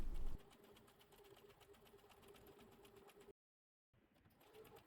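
A sewing machine with a guide presser foot stitches a straight seam on elastic waist shorts. It gives a quiet, rapid, even whirring hum with a brief louder burst at the start, a short silent break, then the whir resumes faintly.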